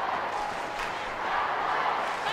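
A large stadium crowd at the AFLW Grand Final between Adelaide Crows and Melbourne Demons roars in a steady, distant wash of cheering and shouting.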